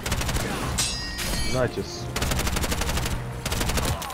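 Rapid automatic gunfire from the first-person shooter Bright Memory: Infinite, bursts of loud, dense shots broken by short gaps and a few thuds, with someone talking over the action.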